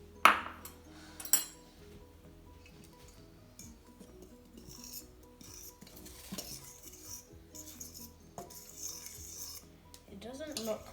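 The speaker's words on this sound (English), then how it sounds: "yeast and salt to the flour, give it a good stir and mix up" Yeast, salt and flour for pizza dough being stirred in a bowl, a utensil scraping and clinking against the sides in a steady, close, uneven rhythm with occasional sharper knocks.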